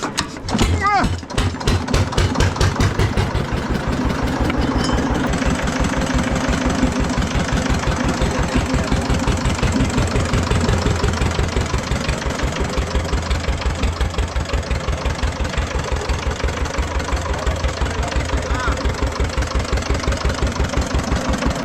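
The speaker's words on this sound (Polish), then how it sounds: "Ja to polecam te silniki, te 15-konne, bo one są łatwe w paleniu" A small Andoria S-15 15-horsepower engine idles close by with a steady, rapid chugging beat that continues unbroken throughout, loud and slightly rough.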